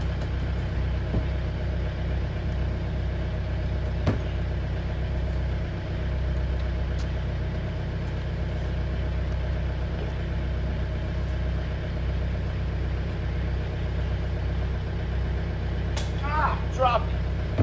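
A John Deere tractor engine runs steadily while raising its loader to tilt a feed barrel, a low continuous drone close by with brief clanks and a faint squeal near the end.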